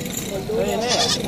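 A Pateri or Kamori goat bleats once at a goat market in Hala, a wavering cry rising over the murmur of nearby voices.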